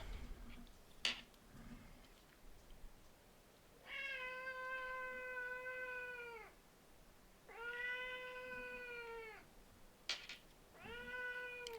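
A cat meows three times in long, drawn-out, tonal calls spaced a few seconds apart, fairly close and clear, with a couple of sharp clicks in between.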